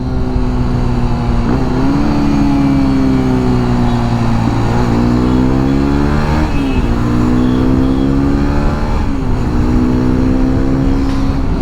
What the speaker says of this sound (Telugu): అసలు ఆ గేర్ షిఫ్టింగ్ చేసేటప్పుడు ఆ సౌండ్ చూడండి,